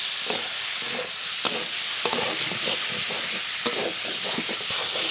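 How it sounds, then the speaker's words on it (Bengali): Boiled potatoes being stirred into fried spice paste in a pan, under a constant loud sizzle with soft scraping strokes and occasional sharp ticks of the spoon, close by. "মশলার সঙ্গে আলু একটু নেড়ে নিয়েছি।"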